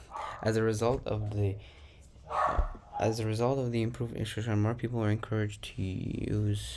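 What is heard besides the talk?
dogs barking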